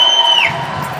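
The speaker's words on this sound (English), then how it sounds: "the crowd is into it" A high school basketball crowd roars in a gym, a brief loud burst of cheering with a sharp whistle-like shout fading into general crowd noise.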